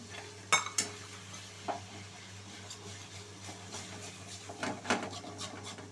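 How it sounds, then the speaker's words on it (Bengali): A spoon scrapes and stirs a spice paste mixed with water in a cooking pan for cauliflower kalia, with soft intermittent clinks and scraping strokes over a steady low kitchen hum, no talking. "সমস্ত মশলা ভালো করে আমি মিশিয়ে নিলাম।"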